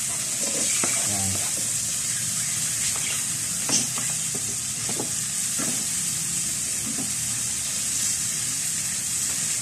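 Sliced onions sauté over low heat in a pan for adobong Baguio beans, giving a steady soft sizzle with occasional scrapes and stirring clinks throughout.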